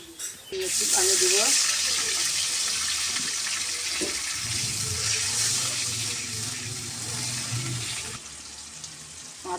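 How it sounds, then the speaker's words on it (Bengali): Water gushes into a cooking pot for rohu fish curry with bitter gourd, a strong steady pour lasting several seconds before tapering off, with a low hum and brief kitchen clatter around it. "একটু পানি দেব"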